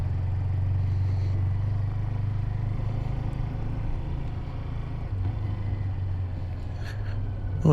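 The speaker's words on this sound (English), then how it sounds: "I hope you can hear the motorbike a bit better" A learner's motorcycle under way during a check ride, a low steady engine drone with wind rumble that holds throughout, slightly rising at the very end.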